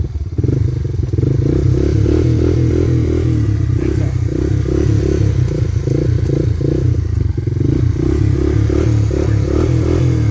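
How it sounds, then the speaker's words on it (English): A Honda ATC 250SX three-wheeler's engine idles and chugs steadily up close while gears are shifted, with a loud, uneven mechanical putter and a few clunks and rattles throughout. "Okay, now I'm shifting it."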